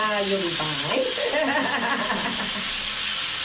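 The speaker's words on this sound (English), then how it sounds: "It's sizzling." Food sizzling in a cooking pan, a loud continuous frying hiss with stirring, close up, with a person speaking briefly over it.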